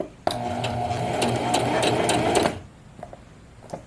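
A Singer Scholastic sewing machine stitches at speed, a fast rhythmic whirring hum with a steady needle chatter for about two seconds, then stops abruptly, leaving faint clicks.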